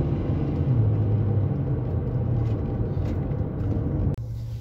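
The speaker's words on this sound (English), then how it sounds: "There's a lot of traffic this morning." Steady low road traffic rumble heard from inside a car stuck in morning traffic, continuous and fairly loud, with a brief drop near the end; no talk.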